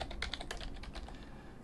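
Quick, light clatter of fingers typing on a computer keyboard, a steady run of soft close keystrokes at low level with no talk.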